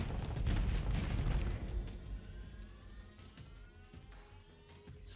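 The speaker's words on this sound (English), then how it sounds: "Those hellbore cannons are pretty tough." Hellbore cannons firing during a space battle in the Starsector video game: heavy booming blasts with a deep rumble that fade into a lingering tail and several fainter whines, loud and alone without talk.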